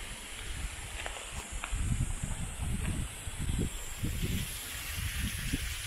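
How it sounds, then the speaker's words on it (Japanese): A mountain waterfall on Amami Oshima gives a steady, broad hiss of falling water from some distance, with soft footstep-like thumps and light rustling close by. "お、滝がある。"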